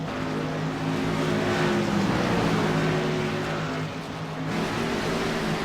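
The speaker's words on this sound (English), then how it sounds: "Michael Tant, the 50. Napa Know-How Chevrolet working his way into turn number 3." The number 50 Napa Know-How Chevrolet race car in a video game at Dover International Raceway drones steadily into turn 3, its engine holding a loud, even pitch with a brief dip in intensity near the end.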